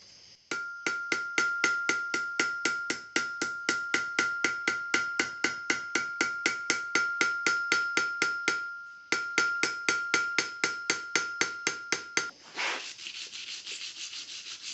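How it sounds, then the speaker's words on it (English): A ball peen hammer strikes a copper cuff bracelet to texture it, in dozens of quick, evenly spaced, ringing metallic taps. The taps pause briefly partway through, then stop into a soft rushing noise. "Now I'm going to put different size texture with a different size ball peen hammer."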